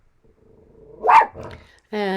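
A single loud dog bark rings out close by in a quiet room after a stretch of near silence. A person starts speaking right after it.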